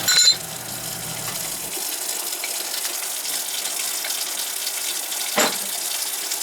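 A basement sink lift pump pushes water in a steady, even rushing flow that keeps going nearly the whole time, with a brief clunk at the start and a short knock near the end.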